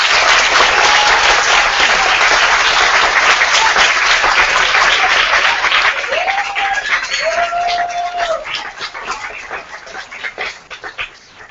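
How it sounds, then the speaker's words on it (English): Parents and children at a kindergarten fashion show clap in loud, dense applause that thins and fades over the second half, with a few raised voices and a whine rising over the dwindling claps. "Let's round of applause."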